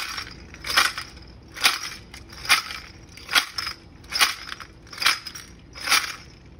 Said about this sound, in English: It is a snapping turtle shell with bells attached to the ribs.